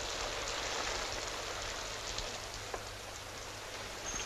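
Steady rain falls in an even, dense hiss that holds for the whole stretch, with a faint thump partway through and no voices.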